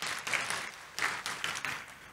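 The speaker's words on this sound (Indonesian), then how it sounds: "Tepuk tangan yang meriah buat Tuhan Yesus." Church congregation applauding in a lively burst of clapping that swells and recurs in waves over a couple of seconds, fairly close and filling the room.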